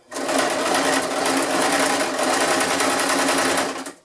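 A sewing machine zigzag stitches down a foam shield in a fast, continuous mechanical whir with a rapid rattling pulse. It is loud and close, with no talk over it.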